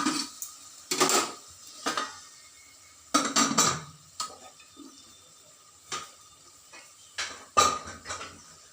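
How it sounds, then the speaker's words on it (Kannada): Onion, sprouted green gram, potato and tomato are tipped into a pan and stirred, producing scattered metallic clanks and scrapes of a spoon against the pot with quiet gaps between bursts. "ಇದನ್ನು ಈಗ ಈರುಳ್ಳಿ ಜೊತೆಗೆ ಕಾಳು, ಆಲೂಗೆಡ್ಡೆ, ಟೊಮೆಟೊ ಸೇರಿಸ್ತಾ ಇದ್ದೀನಿ"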